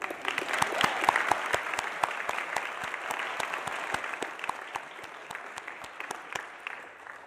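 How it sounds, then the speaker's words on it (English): An indoor audience at a 2021 senior recognition ceremony claps warmly, with sharp, dense hand claps that peak early and gradually thin out. "How about we just clap our hands to once again for them"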